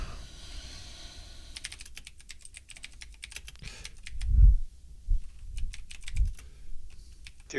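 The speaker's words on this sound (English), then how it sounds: "Wrong keyboard." Rapid computer keyboard typing, close and fairly quiet, with clusters of clicks and key presses against a low background hum and a few heavier thumps.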